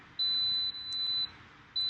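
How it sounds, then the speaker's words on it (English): An Instant Pot pressure cooker sounds a series of high, clear electronic beeps, long sustained tones broken by short gaps, close and alone in a quiet kitchen. "It's beeping right now."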